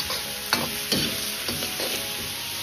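Winter melon is stir-fried slowly in a wok over medium-low heat, with a soft, steady sizzle and repeated scraping spatula strokes close by.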